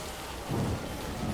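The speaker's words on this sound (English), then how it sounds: "this rain is gonna fuck me over if I'm not careful" Rain pours steadily in the Death Stranding 2: On the Beach game, a brief rumble of thunder swelling underneath the hiss for a moment.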